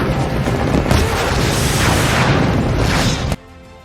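A close explosion amid rocket fire in a battlefield war film gives a loud, dense, sustained roar lasting about three seconds before cutting off abruptly.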